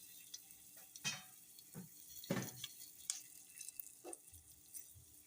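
Mustard seeds, cumin, chana and urad dal, curry leaves, dried chilli and ginger roasting in hot oil in a pan, with faint, soft sizzling and a few scattered stirring clicks and pops, quiet and close.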